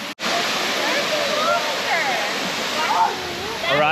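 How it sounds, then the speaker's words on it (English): Phu Pha Sawan Waterfall in Thailand roars as a loud, steady broadband rush of falling water, close by and unbroken apart from a brief dip at the start. "We're going up here. The Phu Pha Sawan Waterfall."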